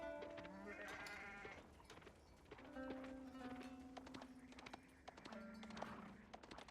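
Sheep bleat in Age of Empires 4, several wavering calls spread across the stretch among busy game sound effects, with a voice faintly in the background.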